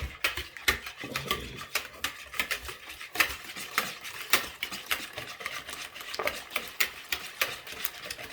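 Banana cake batter beaten by hand in a bowl, a quick steady run of rhythmic clicking and scraping strokes that keeps going the whole time.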